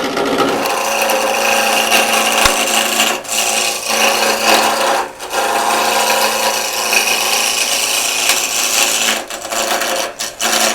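Wood lathe roughing out a mesquite spindle held in a chuck, a loud continuous rasping cut with a steady motor hum underneath, broken by a few brief pauses as the tool lifts off.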